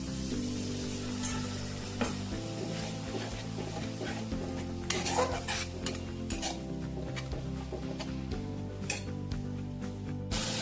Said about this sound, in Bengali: মশলাটা ভালো করে কষার জন্য একটু জল দিয়ে দিচ্ছি।